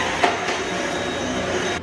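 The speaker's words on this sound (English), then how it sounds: "He is one with the vacuum." A household vacuum cleaner runs steadily at close range for the whole stretch, with a few faint knocks over the continuous motor hum.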